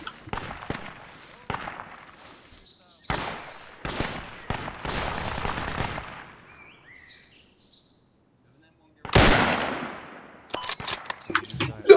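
Sharp, loud rifle cracks from a German sniper in the WW2 Project Reality game, several separate shots with echoing tails spread across the stretch, amid quieter ambient game sounds.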